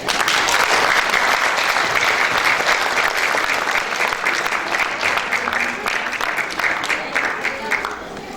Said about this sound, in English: Let us welcome him with a big round of applause.